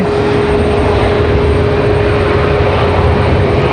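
An Icelandair airliner arrives at Raleigh-Durham airport, and a loud, steady engine roar fills the whole stretch without any break. Nobody speaks over it.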